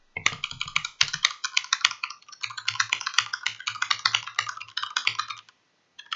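A tenkeyless computer keyboard is struck harder, producing loud, dense bursts of clacking keys in quick runs with short pauses, up close and without any voices.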